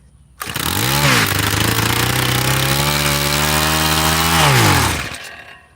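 A garden tiller's small engine comes to life and runs at a loud, steady buzzing drone, its pitch swelling up and settling, for several seconds before cutting off.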